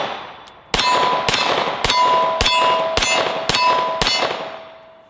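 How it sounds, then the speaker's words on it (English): Seven sharp metallic clangs as bullets strike a small steel target gong at a steady pace, each ringing with a bright, sustained tone that hangs between hits, heard through electronic ear plugs. "the ding of the steel sounds full volume"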